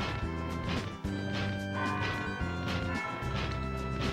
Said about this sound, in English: I'm pretty sure that bell's ringing because of, like, plot reasons right here